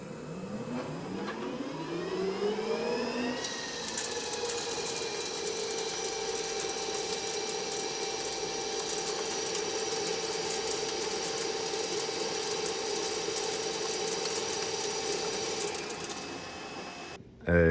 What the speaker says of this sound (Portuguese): Eu estava desbastando todos os eixos com